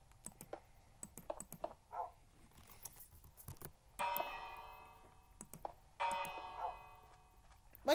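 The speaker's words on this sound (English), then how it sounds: "A bell." Bell in the video game Minecraft, struck twice with bright ringing tones that decay over about a second each, amid close keyboard typing and clicking.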